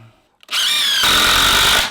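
A power drill drives screws into wood during the restoration of a 100-year-old barn. After a brief quiet moment it starts with a few clicks, then gives a loud, steady, high-pitched whine that runs unbroken to the end, close by and alone.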